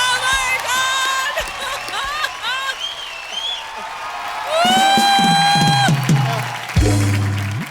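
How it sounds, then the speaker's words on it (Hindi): A studio audience at a Comedy Circus stage show bursts into applause and cheers for Bhansali, loud clapping rising in the middle of the clip amid musical tones and voices. "जोरदार तालियां बंसाली साहब के लिए"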